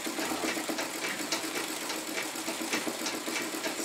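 An old treadle sewing machine stitching embroidery runs in a quiet, steady rapid whir of needle strokes, close by and alone.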